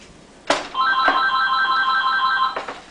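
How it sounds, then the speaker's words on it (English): A home telephone rings with a bright warbling electronic tone lasting about two seconds, bracketed by a couple of short knocks or clatters, heard indoors in a kitchen while beef ribs are being prepared. "I don't answer the phone usually ever when I'm at home, so we're just going to let that ring."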